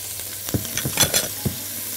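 Onion sizzles in a hot pan while a spoon stirs, with a steady frying hiss broken by several close scraping strokes.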